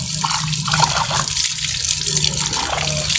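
Water runs steadily from a tap as something freshly dug up is washed by hand, a loud, close splashing and gurgling stream without pause.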